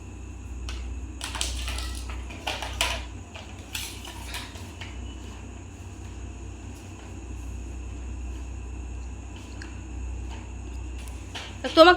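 A child's toy car is broken apart, giving a burst of several sharp clattering, crunching knocks early on, then a quieter stretch and one more loud clatter at the very end.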